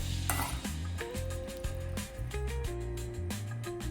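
Beef, potato, peas and carrot pieces for a beef stew stirred in a sizzling pan, with repeated scraping strokes of a spoon against the pan over a steady fry, close and moderately loud.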